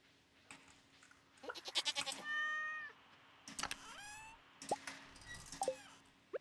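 A cartoonish cat in Stardew Valley gives several short, high meows in a row, then a couple more after a pause, fairly clear over quiet background tones with a few soft plops.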